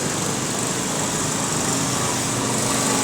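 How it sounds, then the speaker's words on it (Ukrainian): A large power generator running outside a shop during a power outage, a steady loud engine drone with a broad hiss that holds constant throughout, no talking. "там великий генератор"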